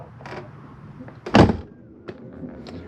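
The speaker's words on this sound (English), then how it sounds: "the slam locks, kind on your door, work best when gently slammed" The entry door of a 2022 Jayco Melbourne 24LP motorhome is pushed shut onto its slam lock, giving one sharp, close thunk with a faint latch click after it and light handling sounds before and after.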